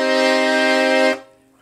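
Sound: Frontalini accordion, master register with low and middle reeds

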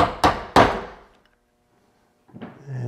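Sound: chisel being struck to chop out a wooden drawer joint

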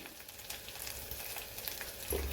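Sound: frying onion with turmeric and chutney masala

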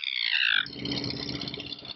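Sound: whistle imitating a parrot or seagull

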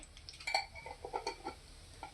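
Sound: cumin seeds sizzling in hot oil in a kadhai

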